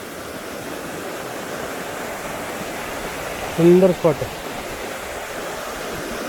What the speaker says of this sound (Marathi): प्रवाह वहाळ हा बघा इकडे हा पुढे खाली गेले हे बघा सध्या पाऊस पडतो त्यामुळे मस्त पाणी आहे